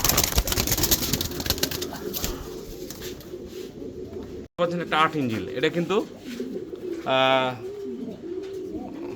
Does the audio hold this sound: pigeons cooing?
yes